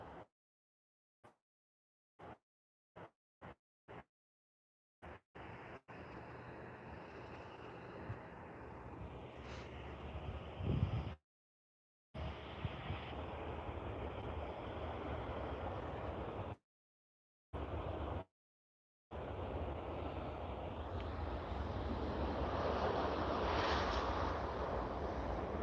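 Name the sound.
Air Canada passenger jet arriving on runway 26, Vancouver airport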